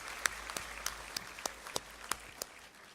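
A university orientation audience gives sparse applause, a handful of distinct, evenly spaced claps ringing out at moderate distance over faint room noise.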